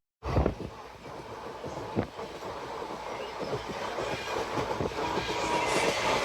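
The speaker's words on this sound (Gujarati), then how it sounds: "આ છે જો વંદે ભારત ટ્રેન" Vande Bharat express train arriving at Veraval station, a steady rolling rumble with rail clatter and wind-like rush building gradually and staying loud throughout.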